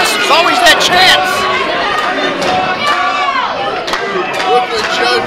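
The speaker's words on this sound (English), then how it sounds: "Brooklyn Joe getting the harassment of his worldly crowd" A lively crowd at an ECPW independent wrestling show boos, shouts and jeers at Brooklyn Joe. The noise is steady and close, with sharp yells on top, and a commentator talks over it.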